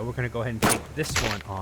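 A shotgun blast fired at a moose in the video game Subsistence, a single sharp booming burst with a short tail, heard in the middle of someone talking.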